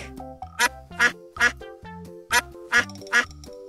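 A duck quacks six times in a loud, evenly spaced series of sharp, nasal calls, close and clear with no talking, like a sound from a children's first-words vocabulary lesson.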